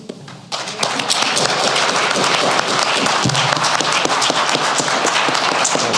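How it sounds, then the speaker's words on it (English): An audience at a panel discussion breaks into applause after a short quiet start. The clapping is loud and dense and carries steadily to the end, with a few scattered thumps mixed in. "Round of applause."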